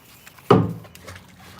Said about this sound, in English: I just hit the dock. I'm sure you all heard that.